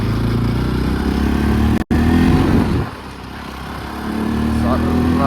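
A motorcycle engine runs with a steady droning idle that briefly cuts out, then settles lower and rises again, while a person talks over it.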